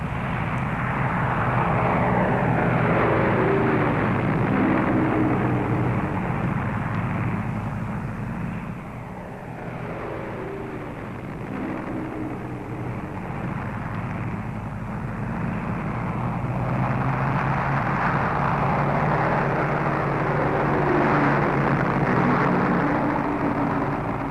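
B-17 Flying Fortress bombers drone steadily overhead in a continuous, loud, layered piston-engine roar that swells and dips slightly without pause, no voices present.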